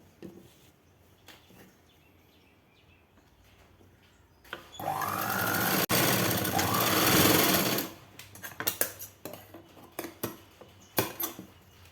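A sewing machine stitching the side joint of a blouse patti runs in one fast, steady burst of about three seconds, close and loud. Scattered clicks and cloth handling follow.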